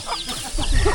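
Chickens in a remote mountain village near the border give a few short clucks, close by and moderately loud, over about a second.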